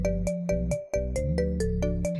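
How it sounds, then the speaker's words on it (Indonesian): Phone ringtone from a horror-comedy cartoon about ghosts, playing a loud, close electronic melody of repeated bright tones over a steady bass pattern. "Ada telepon."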